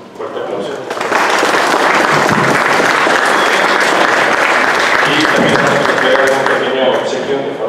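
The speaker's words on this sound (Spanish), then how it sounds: "le damos un fuerte aplauso" Sustained applause from a conference audience after a lecture by historian Cristóbal Durán, swelling in after a second into a loud, dense wash of clapping that holds steady and tapers slightly at the end, with some voices mixed in.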